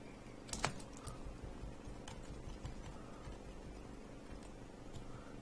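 Quiet, irregular keystrokes tap on a computer keyboard, scattered clicks with a short burst near the start and no talking.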